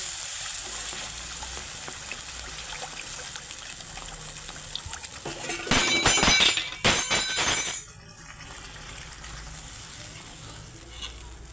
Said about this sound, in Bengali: এখন কষানো হয়ে গেছে, এবারে জল দিয়ে দেব।